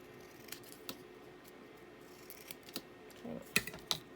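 Scissors snip a masterboard tab in a few quiet, sharp clicks spread across a soft background, with a couple of louder cuts near the end.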